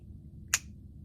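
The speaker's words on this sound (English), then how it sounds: "I snap my fingers" A single sharp finger snap, close and crisp, stands alone against a quiet background.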